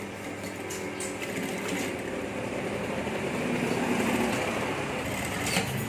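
A sewing machine stitches the pocket fabric of a suit jacket with a steady, continuous mechanical whir, close by and alone, with no talk.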